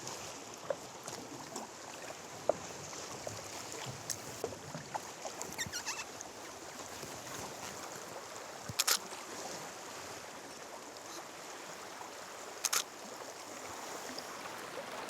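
Paddles dip and splash as a couple paddle a small boat on calm Golden Bay, New Zealand, at dawn, soft water lapping with scattered light drips and knocks, close and quiet.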